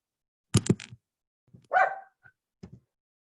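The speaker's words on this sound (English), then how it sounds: "I'm sorry about my dog" A household dog barks in a quick burst of three or four close, fairly loud barks, then gives a longer yelping bark and a couple of softer, shorter woofs in an otherwise quiet indoor setting.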